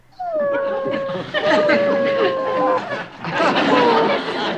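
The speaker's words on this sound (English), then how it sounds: "The doggie's begging, too." A dog whimpers and whines in high, drawn-out tones, several wavering cries close by in a sitcom scene, with background sound running beneath.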